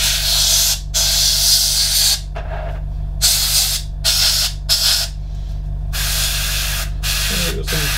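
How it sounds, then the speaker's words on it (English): Short bursts of an airbrush or spray paint hiss loudly and close over a 1/35 scale Meng Terminator model kit, repeated in several on-off passes with a steady low hum from the compressor beneath. "just give them a bit of a spray on top just to break it up"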